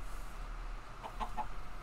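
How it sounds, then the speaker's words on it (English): Minecraft chickens cluck in a few short, close bursts near the end, over a quiet steady background hum with no talk. "Chickens escaped."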